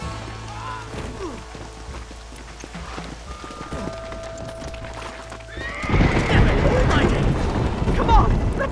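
In the video game Red Dead Redemption, horses whinny and snort over clopping hooves, then a loud rush of galloping and more neighing near the end, with a voice calling out.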